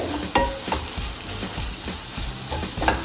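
Sliced onions frying in a pan while being stirred steadily, a continuous close sizzle with repeated scraping strokes of the spoon.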